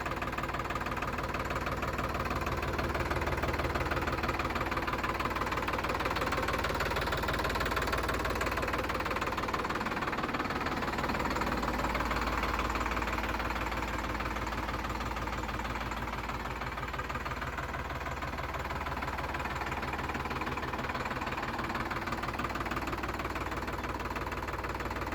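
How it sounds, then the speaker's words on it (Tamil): A Solis 4515 4x4 tractor engine idles steadily, a continuous close diesel rumble with a faint knocking pulse and no talk over it. "இந்த டிராக்டர் சோலிஸில் 4515"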